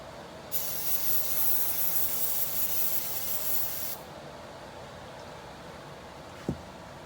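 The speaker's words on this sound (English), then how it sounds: "Spray." A steady hiss of aerosol spray lasts a few seconds, then stops, followed by a quiet room and a single faint knock.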